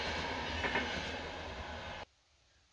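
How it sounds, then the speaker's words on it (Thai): A train passes nearby, a steady rumbling roar with rattling that stops suddenly, leaving near silence. "มีรถไฟเดี๋ยว"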